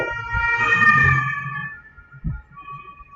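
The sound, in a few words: ambulance siren passing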